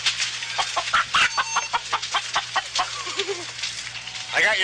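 A chicken rescued from a burning shed clucks in quick repeated bursts close by, with brief squawks and some talk in the background.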